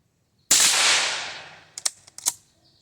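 A small Remington pistol fires one sharp, loud shot up close. The report rings out and decays over about a second, followed by a few quick mechanical clicks and clacks.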